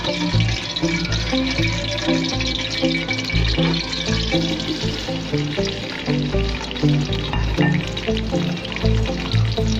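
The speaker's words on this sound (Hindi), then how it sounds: "इसको हमने लाइट गोल्डन ब्राउन तक जब तक नहीं होंगे तब तक हमने इसको भूनते जाना है।" Chopped onions fry over a low flame in hot oil for a spiced liver masala, giving a loud, steady, close sizzle and crackle that keeps going without a break.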